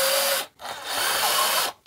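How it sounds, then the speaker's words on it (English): Power drill boring larger holes into a Commodore 64 case, a loud whining grind that runs steadily, cuts out briefly, then resumes and stops again near the end, close up. "Kind of hurts drilling into a C64, even if this case was kind of destroyed."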